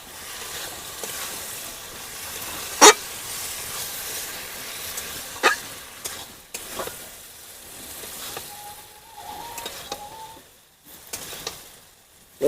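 Soybean chunks and egg frying together in a pan for an egg-soybean curry, a steady moderate sizzle and hiss throughout, broken by a few sharp clinks or stirring knocks.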